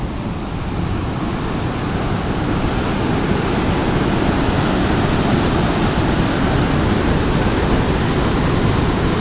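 Water released from the Harike dam gates in Punjab after heavy rains roars as a dense, steady, loud rushing wash that stays unbroken throughout, with no voices.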